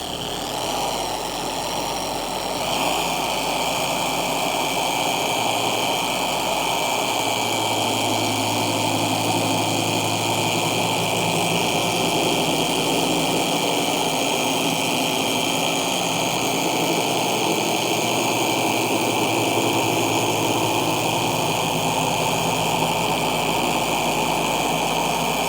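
A car polishing machine buffs out scratches in automotive paint at low speed, producing a steady, close, continuous motor drone for the whole stretch with no talk.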